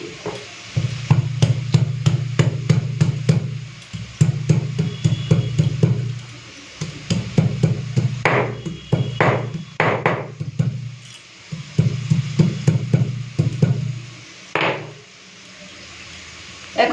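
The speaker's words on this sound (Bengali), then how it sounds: "চলুন আগে আদা জিরেটা বেটে নিই" Ginger and whole cumin seeds are crushed by hand on a stone grinding slab, with repeated rhythmic grinding strokes and sharp knocks that come in steady bursts, separated by short pauses, close and clear.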